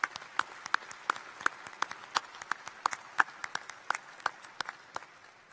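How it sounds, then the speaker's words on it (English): An audience at an October commencement ceremony applauds two new veterinary graduates after the veterinarian's oath, a brisk run of sharp claps lasting several seconds, moderately loud in a large hall. "Another round of applause for our two new graduates"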